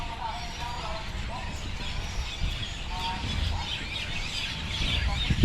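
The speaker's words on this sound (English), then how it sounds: "so many birds" Many birds chirp beside a mangrove at a Palawan resort, with scattered tweets and calls over a steady outdoor background. Footsteps and faint ambient noise run underneath.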